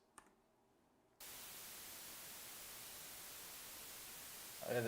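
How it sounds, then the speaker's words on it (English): A synthesized white noise sample for game sound design snaps on abruptly after a second of near silence, holding a flat, constant broadband hiss at steady level until it cuts off. "here we have a white noise sample"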